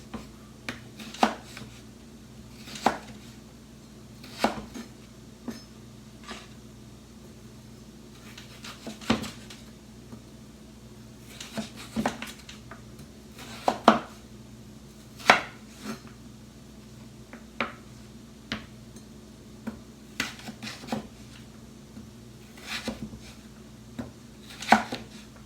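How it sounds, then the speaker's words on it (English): Knife slicing peeled rutabaga into quarter-inch slices on a cutting board, a series of sharp, irregular chopping thuds, close and moderately loud, with no talk. "So now we're just going to cut it into about 1/4-inch slices."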